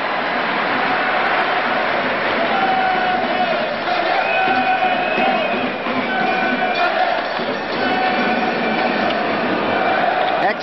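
An ice hockey crowd in Bern roars at the 1990 World Championship game between Canada and Sweden, with drums among the fans. The noise is loud and continuous, with a voice talking over it.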